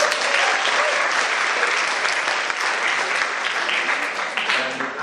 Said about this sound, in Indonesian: Tepuk tangan untuk Pak Kiki.